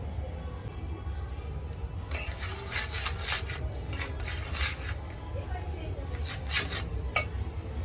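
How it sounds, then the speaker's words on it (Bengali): Flour being stirred with lukewarm water in a bowl for chitoi pitha, with scraping and clinking of a utensil against the dish in irregular bursts over a low background hum. "হালকা উষ্ণ জল দিয়ে আমি এই আটাটা গুলাবো।"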